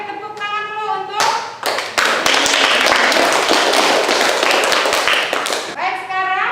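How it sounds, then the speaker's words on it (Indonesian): Classroom applause for a student group, a burst of many hands clapping steadily for several seconds, with a teacher's voice speaking before and after the clapping. "Ya, baik, tepuk tangan dulu untuk"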